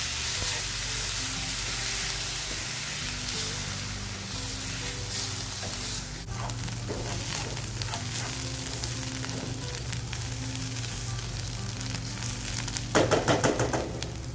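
Steady loud sizzling of garlic and chopped onions sautéing in a pan, with occasional stirring scrapes and clinks, continuous throughout without any talking.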